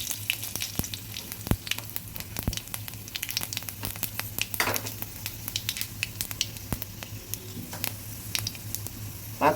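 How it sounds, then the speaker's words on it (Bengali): Dry red chillies and five-spice seeds crackle in hot mustard oil in a kadai, a close, steady sizzle broken by frequent sharp pops and spits as the seeds burst. "আমি শুকনো লঙ্কাটাকে একটু ফাটিয়ে দিয়েছি এবং দিয়ে দিচ্ছি 5 ফোড়ন।"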